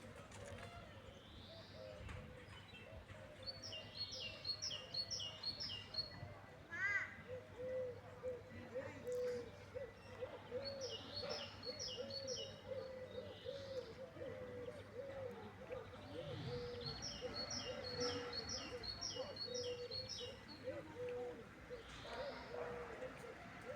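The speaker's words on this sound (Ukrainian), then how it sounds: "Скільки пташок," Many birds sing in a park in the morning, repeated cooing and rapid chirped phrases at moderate distance over a steady outdoor background, with occasional voices nearby.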